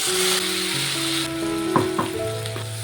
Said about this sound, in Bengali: দিয়ে দেবো পেঁয়াজ আর রসুন একসঙ্গে বাটা পেস্টটা দিয়ে দেবো